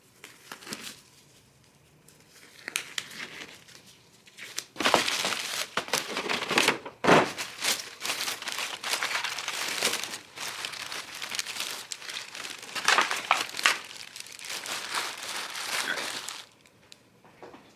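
Aluminium foil wrapped around a ham crinkles and crumples close by as the ham is handled and set into a container, in uneven bursts of rustling that swell and fade.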